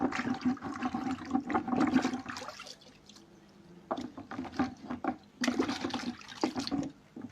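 Dyed fabric being rinsed by hand in water, with splashing and sloshing in uneven bursts, a pause in the middle, then more vigorous rinsing close by.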